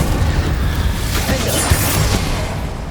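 Bombarda and Incendio spells go off in Hogwarts Legacy, filling the space with loud, dense explosive bursts and fiery roaring that keep up steadily, with a sharper crack in the middle.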